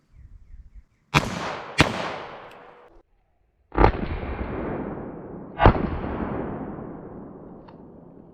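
.38 Special revolver fired with CCI pest control #9 shot at a target about nine yards away, four loud sharp reports in two pairs, each ringing out into a long decaying echo outdoors, with no speech.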